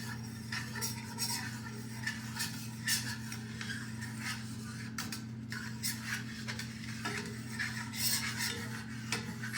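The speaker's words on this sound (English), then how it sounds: "Scrape up all that nice fond in there. Everything's stuck in there." A utensil scrapes and rubs against a cooking pan, loosening stuck fond for a balsamic-basil pork sauce, in irregular gritty strokes over a steady low kitchen hum.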